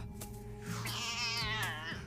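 A single drawn-out cat meow, close and clear, rising and falling over about a second amid low background hum.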